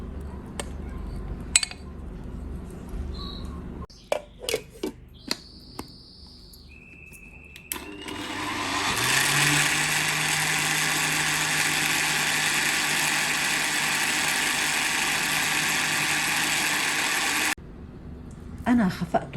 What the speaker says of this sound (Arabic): وهلا بدنا نكفي خفقهم بالخلاط